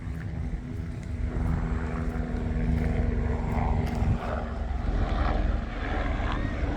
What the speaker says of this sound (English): Got a helicopter flying around at night every night.